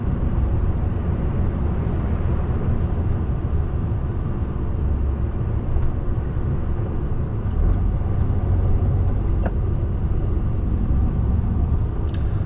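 A car driving in road traffic near Warrington gives a steady, loud, low engine and road rumble that continues unbroken throughout, with no talking.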